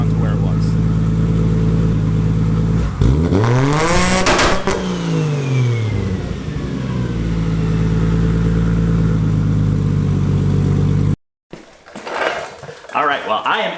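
A Nissan 240SX S14 with an RB25DET engine and a standalone ECU holds steady on a 2-step rev limiter, loud and close, then swings through a sweeping rev before a sudden cutoff and a few sharp pops and crackles.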